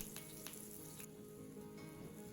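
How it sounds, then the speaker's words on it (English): Eggplant pieces sizzle and crackle steadily in hot olive oil over high heat, a few sharp pops standing out early on, close and fairly quiet, with no voices. "add the eggplants and fry on high heat"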